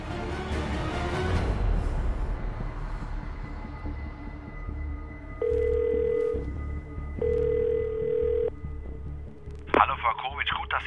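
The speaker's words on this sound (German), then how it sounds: "Hallo Frau Kovic, gut, dass Sie anrufen" A telephone rings in repeated electronic bursts indoors in a German courtroom drama, cutting through faint room tone and earlier muffled talk, then a voice begins speaking at the end.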